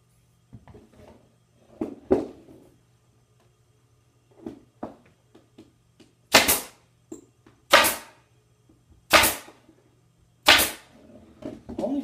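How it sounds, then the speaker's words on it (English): A staple gun fires four loud, sharp snaps a little over a second apart, driving staples through fabric on a cornice valance. Softer rustling and handling of the fabric comes before the shots. "I'm going to take my staple gun."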